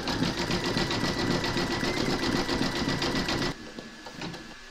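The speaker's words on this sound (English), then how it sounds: "Pop your hoop into your machine and stitch round number 9, and that's going to zigzag around the edge of the beard." Embroidery sewing machine stitching a zigzag outline around the edge of a fabric appliqué in a hoop, a steady rapid mechanical chatter, close and loud, that stops abruptly near the end.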